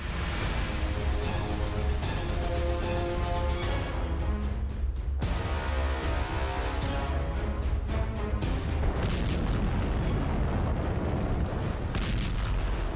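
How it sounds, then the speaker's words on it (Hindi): A dense, continuous roar of blasts and booms from an ammunition factory explosion, with sharp cracks and bursts layered throughout, loud and sustained without pause. "गोला बारूद की एक फैक्ट्री में जोरदार धमाका हुआ"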